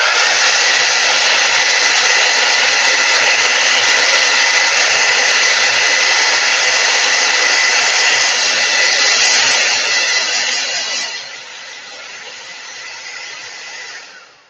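A hair dryer blows loudly and steadily, close by, drying watercolor paint, then drops to a lower, softer setting near the end before cutting off; no one speaks.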